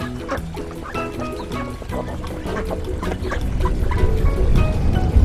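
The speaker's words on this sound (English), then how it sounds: "you can hear from all the quacking, we're now here at the ducks" A flock of ducks at a ranch quack busily while being fed, overlapping honking calls in irregular bursts, close and loud, building in intensity with some splashing and shuffling underneath.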